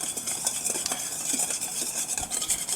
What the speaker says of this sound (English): we keep whisking our hollandaise sauce